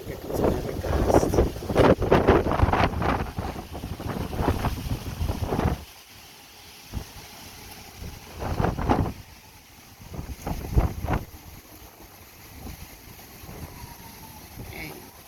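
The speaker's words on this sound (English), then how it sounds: "Okay, here comes another gust." A strong Santa Ana wind gust sweeps through California during 2019 high-wind, fire-prone conditions. It roars loud and close against the microphone for about six seconds, then drops to quieter, intermittent buffeting bursts.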